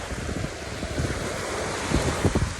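Ocean waves wash ashore at Sunset Beach in Palma, a constant broad roar of surf mixed with wind buffeting the microphone, with a few heavier rumbling surges near the end.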